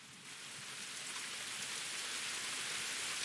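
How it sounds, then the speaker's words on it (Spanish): Rain sound effect begins, a dense hiss of drops on a surface that swells gradually and then holds steady and fairly soft, without any voices. "En este la lluvia ya empezaba."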